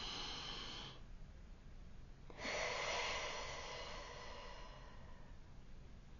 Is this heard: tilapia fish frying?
no